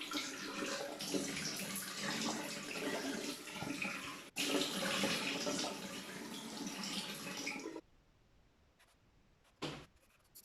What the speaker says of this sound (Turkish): elimi yüzümü yıkayacağım